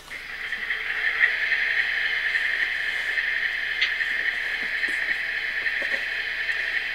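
An HO scale GEVO model locomotive with a DCC sound decoder idles, giving a steady, even droning hiss that holds unchanged throughout, with no talking.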